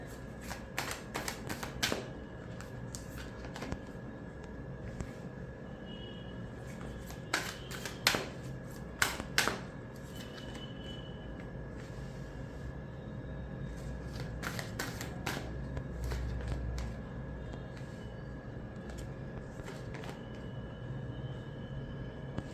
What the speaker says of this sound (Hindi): जब तक मैं कार्ड शफल कर रही हूँ